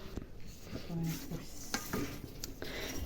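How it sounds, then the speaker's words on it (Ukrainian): A spoon scrapes and clinks around a pot in short strokes, with a soft sizzle underneath, close by and fairly quiet. "Зараз візьму ложку і помішаю."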